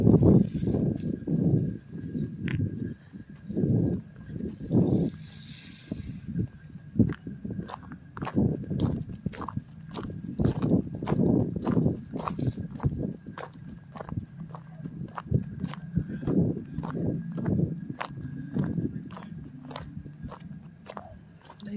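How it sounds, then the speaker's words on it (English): Footsteps walking back to a campsite, a steady run of crunching steps on a rough path, close and fairly loud, with some brief rustling and faint background sounds along the way. "So I'm going to walk you back to our campsite."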